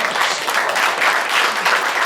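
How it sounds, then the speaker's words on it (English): A saloon audience claps for volunteers on stage during a hypnosis show, a loud, dense round of applause sustained evenly throughout. "give your friends up here another round of applause"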